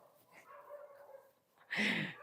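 Dogs barking in a short, loud burst toward the end, following a quieter stretch of faint background sound, with no speech over the barks.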